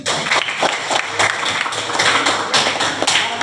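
Classroom audience applauding after a good question during a teaching session, a loud, dense burst of hand clapping with sharp taps that keeps going steadily for several seconds.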